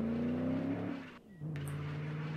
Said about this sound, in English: this grinding noise, the exhaust is just flat out annoying